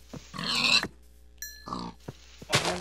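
Pigs in the video game Minecraft, several short separate oinks and grunts in quick bursts, fairly close and clear, with a faint steady background tone and no talking.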